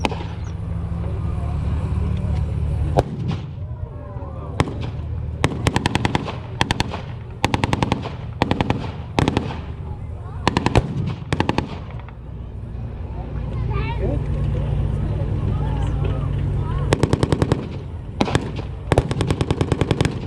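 Bursts of machine-gun fire and single gunshots crack loudly and repeatedly during a tank battle reenactment at a regiment museum, with rapid volleys scattered over a rumbling engine background and a commentator's voice talking throughout.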